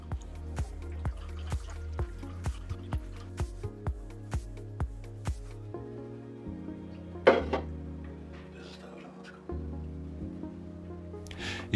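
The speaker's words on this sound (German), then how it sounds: "Jetzt fülle ich das Laborwasser in den Trichter, bis es am kleinen Fitting, dem Überlauf, herausquillt." Lab water fills a funnel on a hydrogen water infusion machine, opening with a regular series of hollow glugging drips before changing to a softer trickle and gurgle near the overflow fitting, close and quiet.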